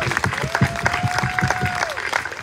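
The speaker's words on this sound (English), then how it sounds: "Let's just give him a big round of applause." Applause breaks out for a birthday at an open-air church service, steady rhythmic clapping from a gathered crowd while a voice carries on over it.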